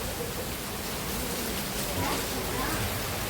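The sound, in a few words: heavy summer rain in Bangalore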